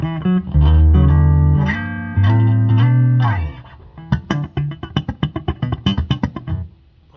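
A Music Man bass guitar played through its front pickup gives sustained low notes and slides for the first few seconds, then shifts to a rapid run of short, percussive plucked notes, close and loud.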